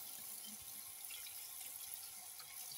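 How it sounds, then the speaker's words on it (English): A tap runs steadily with hot and cold water to fill a bath for a pet bird, a faint, even hiss of flowing water with no talk. "Turn the hot all the way, but the cold halfway."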